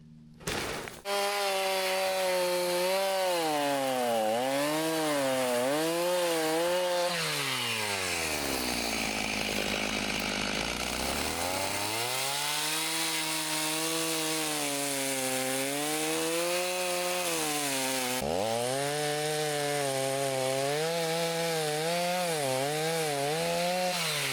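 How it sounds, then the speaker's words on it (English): A chainsaw cuts a tree log into stove-length firewood chunks. The engine runs loud and close throughout, its pitch dropping as the chain bogs into the wood mid-cut and then revving back up. "I'm going to start lopping off chunks for the size of our stove so that it can be split into firewood"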